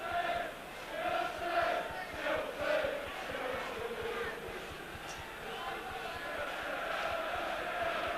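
A large football crowd at Stamford Bridge, Chelsea, London, on a cold evening for a 1986 Milk Cup quarter-final replay against QPR: a steady distant roar and murmur of spectators with occasional swells of chanting throughout.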